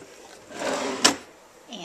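Makeup storage drawers slide open and shut, a soft sliding rub followed by a sharp close knock, heard close up with no talk.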